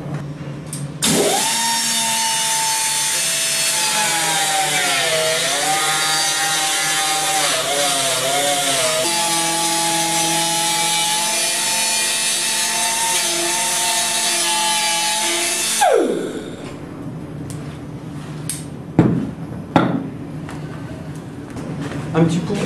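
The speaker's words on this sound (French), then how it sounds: "Un petit coup de ponçage latéral et la pièce sera terminée" A steady, loud abrasive whine of a power sander grinding glass-fibre polyester laminate for about fifteen seconds, its pitch shifting slightly, then stopping, followed by scattered clatter.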